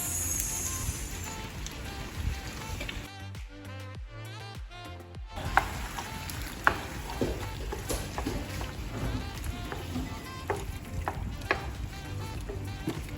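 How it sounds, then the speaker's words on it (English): Creamy garlic alfredo sauce poured over shrimp in a hot pan, a steady close sizzle and frying hiss with a brief quieter gap, then bubbling and scattered clinks of stirring. "So now I'm gonna take my sauce and add it to this."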